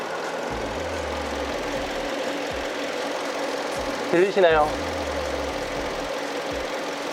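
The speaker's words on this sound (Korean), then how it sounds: "규칙적으로 엔진이 잘 돌아가고" A Kia K5 LPI car idles with its hood open, giving off a low, regular pulsing engine rumble. A voice briefly speaks partway through.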